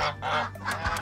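Ducks call in quick, harsh, honking bursts close by while a man chops bananas for them outdoors, with several overlapping calls packed into about a second.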